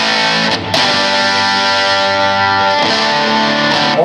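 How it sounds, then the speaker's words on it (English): An electric guitar plays through a Boss DS-1 distortion pedal, producing a loud, thick, saturated sustained chord that rings out, then is re-struck and held again. No one talks over it. "here's the Boss classic DS1 distortion."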